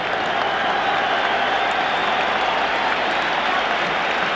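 A stadium crowd at the 1986 World Cup qualifier between Ireland and the Soviet Union gives a sustained, steady round of applause as a player leaves the pitch.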